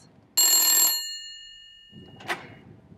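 A telephone bell rings once in a bright, loud metallic burst of about half a second that fades out, followed by a softer, shorter second ring a moment later.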